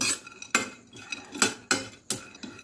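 Cashew pieces being fried in a pan while making karanji, heard as a metal spoon clanking and scraping against the pan in about six sharp strikes with a faint sizzle underneath, with no talking.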